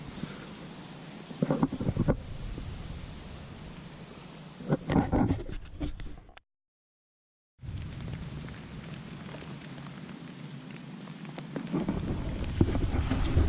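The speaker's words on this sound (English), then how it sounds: "Now it's just sprinkling." Rain falling outdoors around a rain shelter, a steady dense patter with a few louder drips, broken by a brief silent gap before the shower resumes as a lighter sprinkle.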